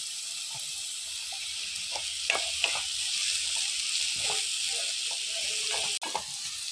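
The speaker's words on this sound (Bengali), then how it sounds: "আমি কীভাবে আলুগুলি লাল লাল করে ভাজতে হবে" Potatoes fry in oil, producing a continuous close sizzle with intermittent stirring scrapes and small bubbling crackles, without talk.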